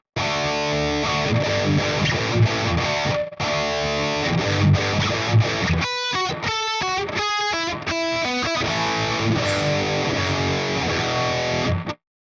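Distorted electric guitar playing a chorus riff built on power chords on the sixth and fifth strings: loud, thick chords with a stretch of tight, rhythmic chugging stabs in the middle, played alone for about twelve seconds.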